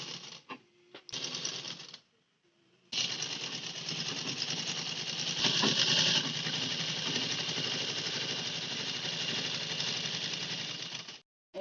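Sewing machine stitching the lining onto the back part of a blouse, a rapid close mechanical clatter that runs briefly, pauses, then hums on continuously for several seconds before stopping.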